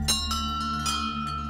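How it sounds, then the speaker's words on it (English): Temple bells ring with a sustained, humming tone, struck again several times at irregular intervals so that fresh metallic strikes layer over the lingering resonance, close and clear with no voices. "I didn't realize the significance of bells, especially around temples and places of worship"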